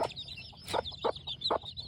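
Hoy Muff gamefowl chicks and hens make soft, scattered clucks and short peeping chirps at close range, several brief calls over a quiet yard background with no voices.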